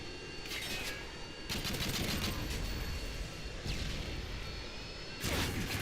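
A Harrier jet attacks in the video game Call of Duty, with loud, dense bursts of rapid gunfire and crashing impacts rolling on nonstop and swelling again near the end.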